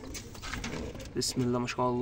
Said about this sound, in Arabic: ده حمام كسبان برضو، محصيين اهو